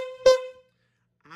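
A short, bright honk of a horn sound effect rings out once, followed by silence and a brief trailing voice.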